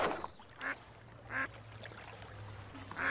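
Ducks quack in a Looney Tunes cartoon scene, three or four short nasal calls spaced about half a second apart, close and clear over a low steady hum.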